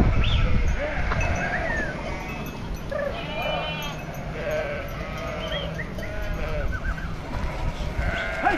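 A large flock of sheep bleats constantly in a dense overlapping chorus, many animals near and far at once, during a transhumance drive of a herd of about 3,200 sheep, with people's voices mixed in.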